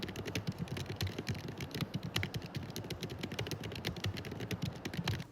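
Steady typing on a computer keyboard while drafting a story, with close, quick clicks and key taps flowing in an uneven but continuous rhythm.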